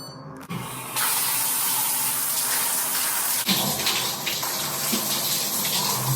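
Water runs steadily from a campsite shower in a shower block, a continuous loud hiss that shifts slightly partway through, with no talking.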